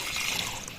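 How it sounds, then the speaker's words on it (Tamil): Water poured into a pan of goat blood fry with cumin, pepper, ginger-garlic paste and rock salt, a steady close splashing hiss through the whole brief moment. "தண்ணி ஊற்றிக்கலாம்."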